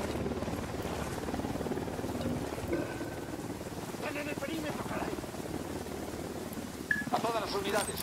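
A military helicopter in the video game Ghost Recon Wildlands drones with a steady rotor thrum and wind-like rush for several seconds, mixed under game dialogue and ambient effects.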